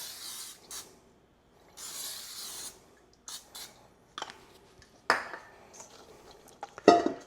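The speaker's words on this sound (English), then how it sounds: "Gotta spray it with the neutral oil." A can of neutral oil sprays in several short hissing bursts in a kitchen while sourdough bread is being prepared, close and moderately loud, with clinks of pans and utensils between bursts.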